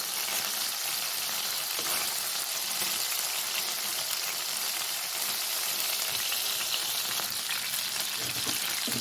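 Kebabs fry in hot oil for a kabab handi, a steady, dense sizzle with constant crackling bubbles that stays close and even throughout with no voices.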